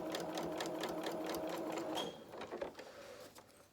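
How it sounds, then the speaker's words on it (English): A sewing machine runs a quick tacking stitch across fabric for a toy body, a steady close mechanical whirr of needle strokes for about two seconds, then slowing into a few softer clicks and stops. "I'm just going to tack this with just a quick stitch going across"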